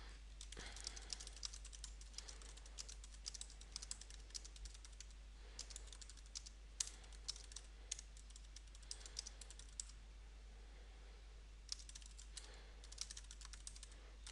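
Fast, light typing on a computer keyboard while a blog post is written, with bursts of soft close clicks separated by short pauses over a quiet steady hum.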